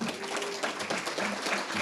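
A luncheon crowd at a leadership awards event applauds an honoree, giving a short, dense burst of many hands clapping with a faint background voice.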